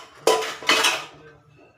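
Two loud metallic scrapes of a spoon against a steel pot as red chutney is scraped in, each trailing into ringing clatter, close by with no talking.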